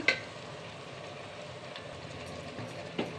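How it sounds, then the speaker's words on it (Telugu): Goat tripe (boti) frying in oil in a pan on a stove over medium flame, a steady soft sizzle throughout with a couple of brief louder clinks or stirs near the start and end. "స్టవ్ని మీడియం ఫ్లేమ్లో పెట్టి మంచిగా ఫ్రై చేసుకోవాలి ఆయిల్లో ఆయిల్లో ఫ్రై చేసుకోవాలి"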